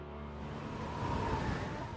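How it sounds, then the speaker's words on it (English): Wind in the mobile battle game PUBG Mobile blows as a steady, rushing low roar that swells slightly toward the end, loud and alone with no voices. "Oh, I hate this wind sound."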